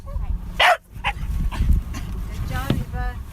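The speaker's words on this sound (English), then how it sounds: "That's the sound of Eba the whale dog." A whale-detection dog gives a few short, sharp barks and yips close by, separated by brief pauses.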